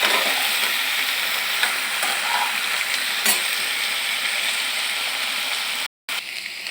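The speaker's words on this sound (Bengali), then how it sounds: "হলুদ আর লবণ দিয়ে আমি পটলটা ভেজে নেবো ভালো করে।" Sliced pointed gourd fries with turmeric and salt in a pan, a continuous bright sizzling hiss with occasional utensil scrapes, broken by a brief silent cut near the end before the sizzle resumes.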